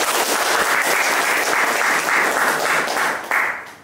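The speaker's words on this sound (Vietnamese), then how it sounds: "xin anh chị em một tràng pháo tay thật lớn" Loud, sustained applause from a live audience at a talk, a thick continuous roar of clapping that holds steady before easing slightly near the end.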